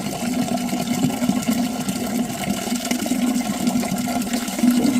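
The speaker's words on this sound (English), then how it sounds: "I just want to keep sort of a good flow of water running through, so any bits and pieces will run into the main." A strong, steady flow of water runs through a cleared, previously blocked drain, a continuous close gushing and rushing that holds at an even level throughout with no voices.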